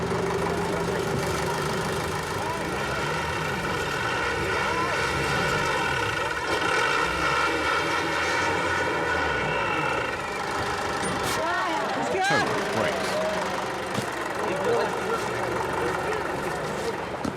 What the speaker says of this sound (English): The tractor is making one more effort to move the truck.